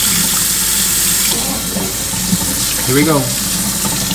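Water runs steadily from a sink tap, a loud continuous splashing stream with some gurgles toward the end, while a person speaks briefly over it.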